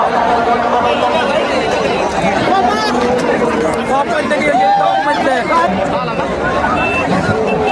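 Dense crowd chatter fills the ground at a Pusegaon bull race final, a loud continuous babble of many voices with shouts rising out of it.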